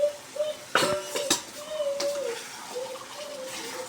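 A metal pot lid lifted and set down in a home kitchen while a Bengali egg curry with coconut milk cooks, giving a few sharp clinks and clatters over a low background hum.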